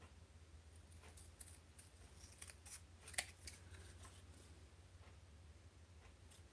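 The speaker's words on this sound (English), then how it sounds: "I'm going to use my big blade scissors and see if we can straighten that out a bit." Big-bladed scissors snip a few times while embossing-paste stencil work is tidied up, giving faint, sparse cuts with one sharper snip standing out over a steady low hum.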